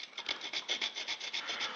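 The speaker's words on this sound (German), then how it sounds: "hier reinsägen" A hand saw cuts into wood while a figure is carved outdoors, giving about a dozen quick, even back-and-forth rasping strokes, close and alone.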